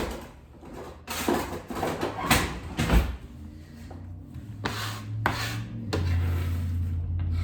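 Whole pistachios chopped with a knife on a board for Christmas dinner prep, a run of close, uneven scraping and chopping strokes with short pauses between bursts.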